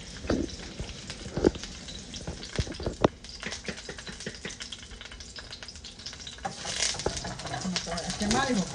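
White onion frying in a little oil in a home kitchen, a steady crackling sizzle running throughout beneath a woman's and others' conversation, with occasional stirring clatters and clicks.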